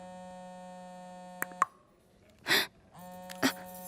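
A phone ringing with a steady electronic tone, broken by brief clicks and thumps, then resuming after a short pause, fairly quiet and without speech.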